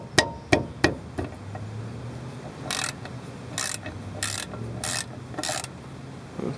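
A 1/2 inch ratchet breaking loose bolts while replacing a car wheel cylinder: a few sharp cracks as the bolts give, then a run of rhythmic clicking ratchet strokes, close and clear with no talking.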